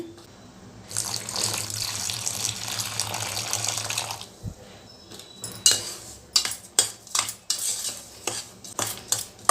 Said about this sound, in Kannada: ಸ್ವಲ್ಪ ಬಿಸಿ ಬಿಸಿ ಹಾಲೇ ಹಾಕಬೇಕು ಈಗ ಹಾಲು ಹಾಕ್ತೀನಿ